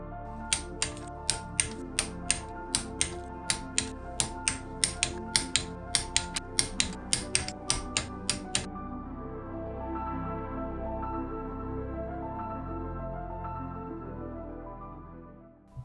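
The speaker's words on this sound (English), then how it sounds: "I torqued it down to 22 foot-pounds, which is also included with 1/4 of a turn after the 22 foot-pounds of torque" A torque wrench clicks in a quick run of sharp, regular snaps while clutch pressure plate bolts are tightened on an O2O clutch in an MK1 Golf 1.8T 20V conversion. About twenty crisp clicks are heard close up, then a steady low hum continues.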